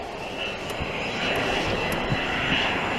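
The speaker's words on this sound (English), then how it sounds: "Listen to those engines, man. That's loud." Old vintage fighter jet aircraft with piston-like engine drone near an airport, a loud, steady broad roar holding for the whole span with no speech over it.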